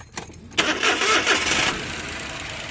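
A Suzuki DA64W with a K6A engine, suspected of a valve fault, cranks and catches, then runs at a steady mid-pitched idle close by after a few faint clicks.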